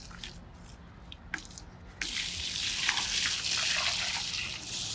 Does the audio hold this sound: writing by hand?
no